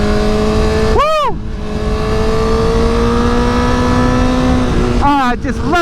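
A Honda CBR1000RR superbike engine revs hard twice, sharp rising-and-falling bursts a few seconds apart over a steady engine drone, close and loud.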